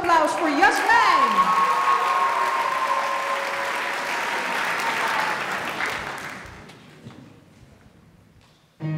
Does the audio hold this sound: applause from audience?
yes